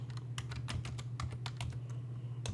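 Computer keyboard keys tapped in a quick irregular burst while entering a Linux command, about a dozen crisp close clicks over a steady low hum, ending with one final keystroke after a pause.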